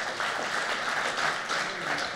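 Audience applause at a lecture announcing a new human ancestor species: a steady, moderately distant wash of many hands clapping for a couple of seconds, with no clear talk.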